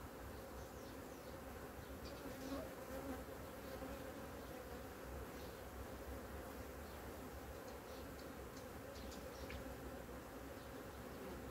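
Agitated honeybees buzzing around a swarm, a dense, steady drone with darting insect whines passing close, continuous and fairly loud throughout with no talking.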